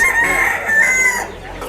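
Chickens at a raw produce market in Moulvibazar, Bangladesh, clucking loudly and close with a drawn-out crowing call; no speech.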